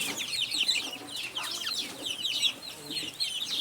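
Young chicks on a mini poultry farm keep up a constant chorus of high cheeping and peeping, many birds calling at once over a soft background hum.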